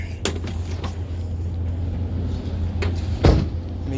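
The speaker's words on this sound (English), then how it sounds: "Hey, at least both back doors on this work." A truck's back doors open and close, giving a few sharp clicks and latch knocks over a low engine-like hum. One heavier thump near the end sounds as a door shuts.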